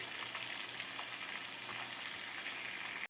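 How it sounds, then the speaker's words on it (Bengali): Salted potato pieces fry in a pan with a soft, even sizzle, quiet and unbroken with no voices, until it cuts off abruptly at the end. "আলুটাকে ভাজতে দিয়েছি।"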